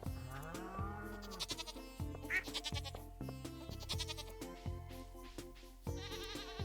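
Goats bleat repeatedly in the farming video game Stardew Valley, several wavering cries in quick succession over a busy layer of game music and farm sounds, fairly close and clear.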